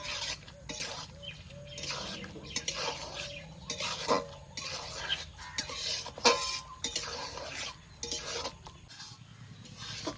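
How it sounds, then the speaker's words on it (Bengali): A utensil stirs okra with mustard paste and melon seed paste in a pan, producing a steady series of soft scraping and clinking strokes against the metal, fairly quiet and close. "সর্ষে বাটা চাল মগজ বাটা দিয়ে দিয়েছি এবার নেড়ে চেড়ে মিশিয়ে নেব"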